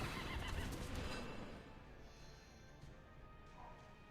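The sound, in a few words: horse neighing in the video game Mono Primal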